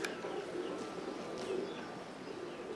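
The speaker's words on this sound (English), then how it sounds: "Some of the birds that are coming into the rolls, going in there, screwing up the mix a little bit" Flying roller pigeons cooing softly at a roller flying competition, a low steady murmur of coos heard faintly from a distance under outdoor ambience.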